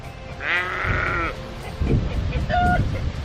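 A sheep in a rye and vetch paddock gives one long, close bleat, then a shorter second bleat follows after a brief pause, with faint rustling between.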